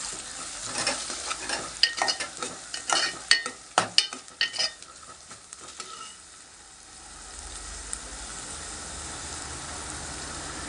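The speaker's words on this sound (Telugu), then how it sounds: "ఒకసారి కలుపుకుందాం." Fish curry made with small flat fish being stirred in a pan, with a burst of close scraping and clattering strokes of a spoon over a gentle sizzle, fading after a few seconds into a quiet steady simmering hiss.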